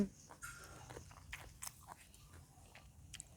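A big bite of spicy Thai mixed noodle salad chewed close to the microphone, wet crunchy bites and smacking chews coming in quick irregular bursts with no talking.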